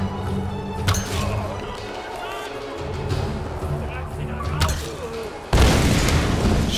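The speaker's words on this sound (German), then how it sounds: "Es explodiert hier schon wieder alles." Explosions in the video game Tomb Raider Definitive Edition: several dull booms and thuds under steady game background noise, ending with a loud, sudden blast, while someone talks over the action.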